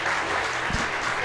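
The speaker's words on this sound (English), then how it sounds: "Let's have another round of applause for Bill." Audience applause at a live talk event, a steady wash of clapping filling the whole short stretch at even loudness with no voices on top.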